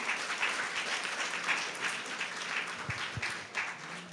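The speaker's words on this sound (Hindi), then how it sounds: "आप सब खूब तालियों के साथ इनकी हौसला अफजाई कीजिए।" An audience at a marriage counselling workshop applauds a second-prize winner, a sustained moderate round of clapping with a few louder individual claps near the end.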